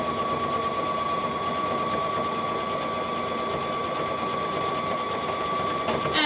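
A sewing machine chain-stitching fabric for a Vogue 9345 garment runs in one continuous, even whir with a steady high whine, close and moderately loud, with no voices over it.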